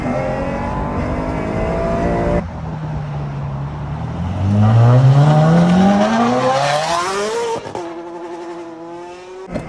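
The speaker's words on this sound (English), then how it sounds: "A V12 engine that sounds like God clearing his throat" A Ferrari V12 racing car engine revs hard and accelerates, its pitch climbing steadily in a loud, howling sweep before easing off and rising again, with no talk over it.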